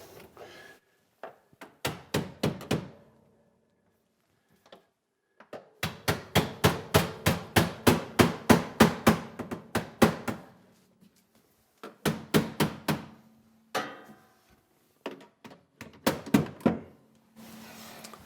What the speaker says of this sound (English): What we can do is use the handle of the hammer.